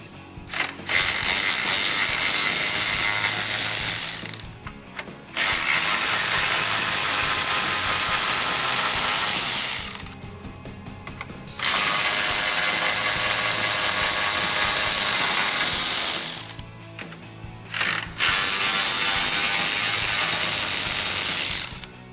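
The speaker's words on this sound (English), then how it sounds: "Grab your socket and remove those bolts." A hand socket ratchet clicks rapidly and steadily while backing out 10mm grille bolts on a RAM 1500 pickup, loud and close in long bursts separated by short pauses.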